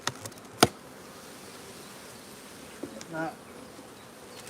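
Bees packed tightly into a hive give off a steady, low buzzing, broken by a couple of sharp knocks near the start. A voice says a single word partway through.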